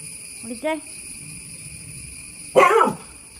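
A dog gives two short barks, the first a quick yelp and the second a louder, harsher bark about two seconds later, with a steady insect hum in the background.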